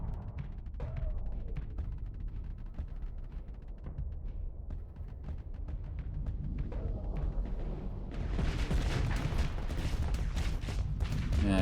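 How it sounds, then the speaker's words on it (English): Heavy weapons fire in the Starsector space combat game, Gauss cannons and a tachyon lance hitting an Onslaught battleship: a dense, continuous stream of booming shots and impacts that swells into a louder, harsher barrage near the end. "Watch out for those Gauss Cannons."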